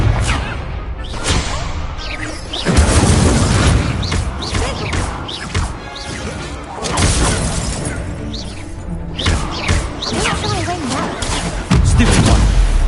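Fire spells from Hogwarts Legacy burst repeatedly in a video game duel, loud crackling blasts and crashing impacts stacked with other magical effects, while voices call out spells over the din.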